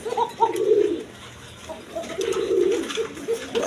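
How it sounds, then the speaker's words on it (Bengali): A pair of blue shari pigeons coo close by in two low, rolling bursts separated by a short pause, with soft background noise and no voices. "এক পেয়ার ব্লু শাড়ি কবুতর দেখেন, কোকাটা আবার ডাকাটাকি করতেছে খুব"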